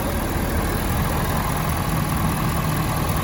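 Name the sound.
2020 Ford F-250 6.7 liter Powerstroke diesel engine running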